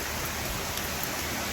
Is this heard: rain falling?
yes